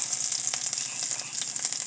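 Chopped garlic frying in mustard oil, a steady close hissing sizzle with faint crackles throughout, no talking.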